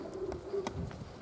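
Pigeons coo in low, soft throaty bursts, fairly close, with a faint chirp or two mixed in.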